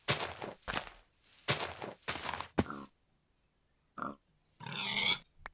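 Several Minecraft pig grunts and oinks come in quick bursts, with a few soft thuds like footsteps between them; close by and clear.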